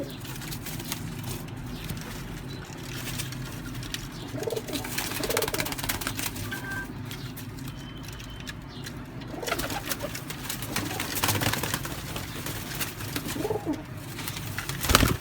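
Pigeons for sale coo softly in low, repeated calls amid a busy, noisy background, with several coos scattered across the stretch.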